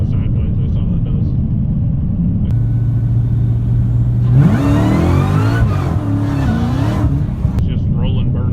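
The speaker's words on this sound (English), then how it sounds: "It's just rolling burnouts." Loud supercharged Dodge Hellcat engine rumbling during rolling burnouts, then revving up sharply with rising pitch and wavering, strained power, ending with a roar settling back; no voices.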